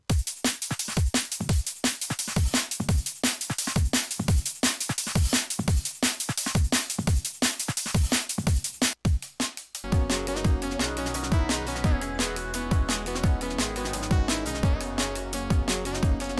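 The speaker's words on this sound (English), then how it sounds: "we're importing an entire drum kit basically, with a pre-programmed pattern" An imported drum kit runs a pre-programmed pattern of steady, punchy kick and snare hits in a fast regular groove, then shifts into a denser, fuller electronic section with sustained tones beneath the beat.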